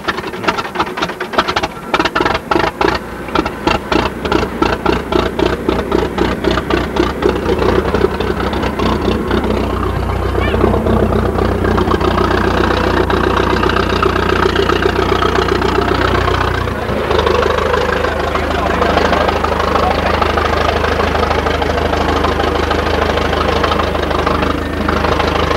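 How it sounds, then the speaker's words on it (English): A Fordson Major tractor engine at a vintage show, starting with rapid, loud chugging beats close by and then settling into a steady, heavy, low rumbling idle, with no talk over it. "And we move next door to Pat Burke Lisardo, who has a Fords and Major here on show today."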